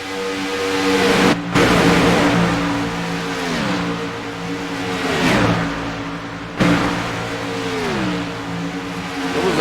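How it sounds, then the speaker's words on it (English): Race car engine in a sim racing broadcast drones steadily while revving up and down through several pitch sweeps, a loud continuous whine with brief cut-outs as the car spins off the track. "Oh, we have a car! We have a car off spinning."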